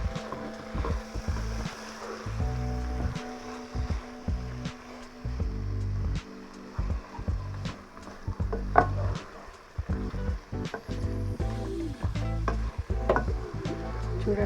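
Chicken fry pieces sizzle steadily in a hot pan with mint, coriander and curry leaves, as a spoon stirs them in repeated close scraping strokes over the continuous frying hiss.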